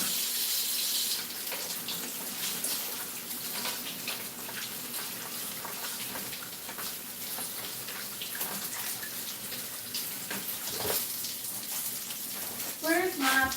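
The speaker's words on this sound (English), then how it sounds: "I'm just going to wash my hands while we're doing that." A kitchen faucet runs into the sink while hands are washed during cooking, a steady hissing stream of water that continues throughout, with a few clinks and a voice briefly heard near the end.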